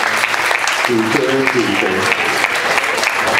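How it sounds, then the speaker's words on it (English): Audience applause fills a charity hypnosis stage show, a steady, dense roar of clapping throughout while someone speaks calmly over it. "let's hear a round of applause"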